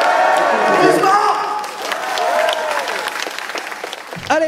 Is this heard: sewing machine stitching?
no